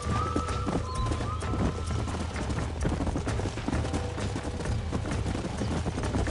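Horse hooves pounding in a fast gallop in the Red Dead Redemption video game, a dense continuous clip-clop with a low rumble underneath, close and steady throughout.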